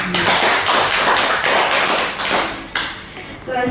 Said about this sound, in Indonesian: Mari kita berikan aplaus sekali lagi.